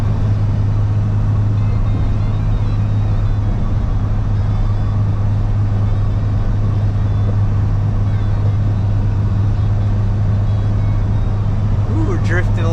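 A box truck cruising on a highway at 70 mph gives off a loud, steady engine and road drone that stays constant throughout, with a faint voice under it.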